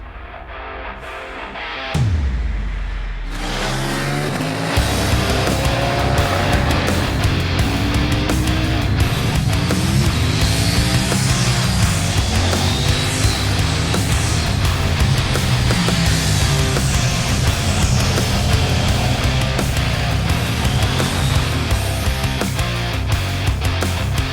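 A 2021 KTM 890 Duke is ridden on the road, its engine note rising and falling as it works through the gears. Wind rush sits under the engine, which stays loud and steady throughout with no voices.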